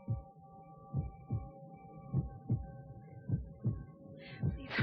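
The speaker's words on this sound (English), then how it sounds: "I feel his heart beating" A pounding heartbeat thumps in steady double beats about once per second over a low hum, close and prominent with no talking.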